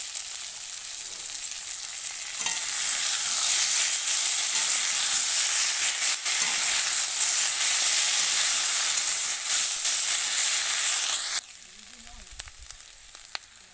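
Ginger hits hot oil in a pan while a rohu fish and potato curry is being cooked, setting off a loud, steady sizzle that swells suddenly, holds for about nine seconds, then drops back to a quieter fry.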